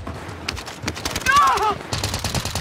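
Rapid automatic gunfire in the shooter game Warzone, with bursts of clattering shots and a whistling effect partway through, loud and close, with a voice talking over part of it.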